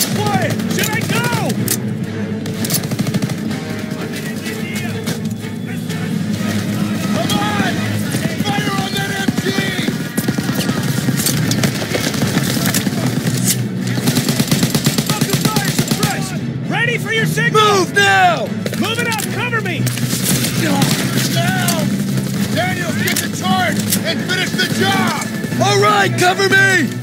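Gunfire and bursts of machine-gun fire from a Call of Duty WW2 battle run loud and steady through the whole stretch, mixed with shouted soldier voices and a dense combat din.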